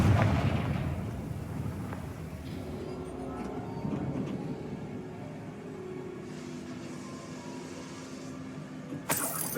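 A Confringo fire spell in Hogwarts Legacy, a deep rumbling blast that starts loud and slowly dies away into a low roar, with a sharp crack near the end.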